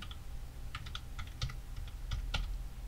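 Quiet computer keyboard typing while entering graph data in Adobe Illustrator, a loose series of soft clicks in irregular bursts, with a few slightly firmer keystrokes.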